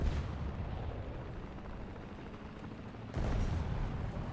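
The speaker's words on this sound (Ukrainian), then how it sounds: "Гелікоптер літає союзний, це добре." A helicopter flies over the battlefield in the tank game War Thunder, a continuous rumbling roar that swells louder near the end, mixed with the game's background combat noise.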